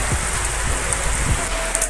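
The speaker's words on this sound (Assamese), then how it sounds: "পুৰা বৰষুণ হঠাতে বৰষুণ হৈ গ'ল।" Sudden rain falls steadily on surfaces outdoors in a village, a dense, even hiss of drops with no voices.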